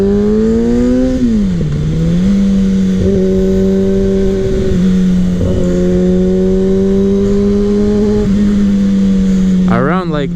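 A 2016 Kawasaki ZX6R 636 sport bike engine revs steadily and loudly up close, its pitch dipping and climbing through the gears, with a quick rising rev near the end.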